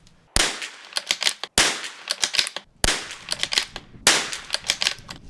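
Rimfire rifle shots from a Bergara B14R, four sharp loud cracks spaced about a second apart outdoors, each followed by a short ringing echo and scattered clicks.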